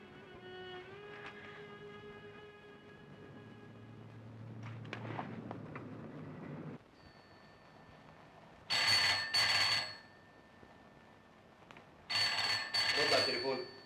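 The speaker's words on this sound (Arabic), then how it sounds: "رد على التليفون." A telephone in an Egyptian film scene rings twice in loud, sharp double bursts after a stretch of quiet room noise with faint voices and music.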